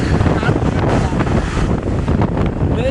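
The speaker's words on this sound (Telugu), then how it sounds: "గాలి గాలి." Strong wind blasts straight into the microphone outdoors, a loud, continuous low rumble with fluttering gusts throughout the few seconds.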